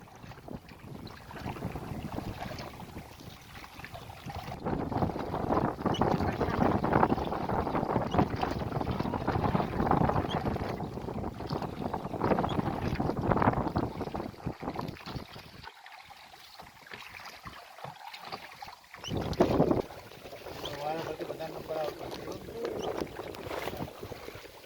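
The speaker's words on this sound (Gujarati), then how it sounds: "બોટવાળા કાકા બહુ મહેનત કરીને હલેસા મારી રહ્યા છે" A rowboat is pulled along with oars on the wide, deep Dudhni lake near Silvassa, with repeated splashing and swishing strokes heard through steady wind noise on the microphone, without talk.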